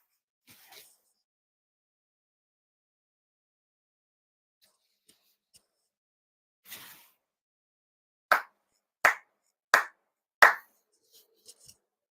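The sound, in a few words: four ritual hand claps at a memorial ceremony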